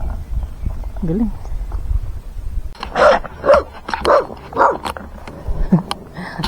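A dog barks from close by in a rural mountain setting, giving four or five loud, evenly spaced barks after a brief moment of background noise.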